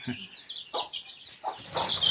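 Hens clucking in a village yard at a Dhangarwadi hamlet in Hardakhale, Konkan, a few short nearby clucks and squawks scattered over a soft rustling background, with faint voices in the surroundings.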